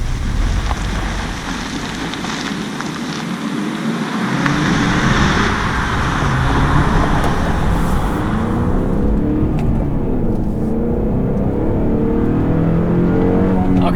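A 2018 Honda Accord Sport pulls away and accelerates, its engine and road noise building into a steady loud drone with tire and wind rush, heard from inside the car.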